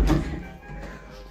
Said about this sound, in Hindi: दरवाज़ा बंद करो, लाइट आ रही है बाहर से बहुत